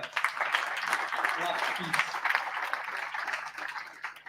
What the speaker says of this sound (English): Another round of applause just for that